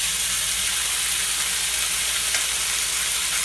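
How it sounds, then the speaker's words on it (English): Bacon cooks slowly over medium-low heat in a pan, giving a loud, continuous sizzle and crackle that holds steady throughout with no voices. "So while the bacon cooks, I want to cook the bacon nice and slow."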